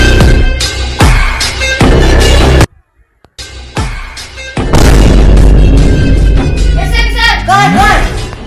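Loud, heavy explosion booms pound out again and again in a comedic action scene, broken by a sudden near-silent gap before more dense blasts and rumbling.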